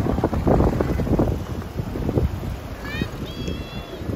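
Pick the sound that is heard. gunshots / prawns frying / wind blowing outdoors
wind blowing outdoors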